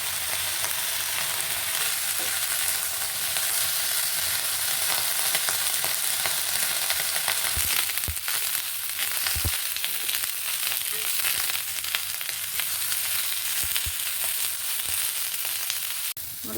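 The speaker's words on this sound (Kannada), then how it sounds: "ಬದನೆಕಾಯಿ ಈ ಥರ ಫ್ರೈ ಆಗಬೇಕಾಗುತ್ತೆ" Eggplant fries in oil in a pan, a loud, continuous hiss and crackle that runs without pause, broken now and then by stirring scrapes and taps.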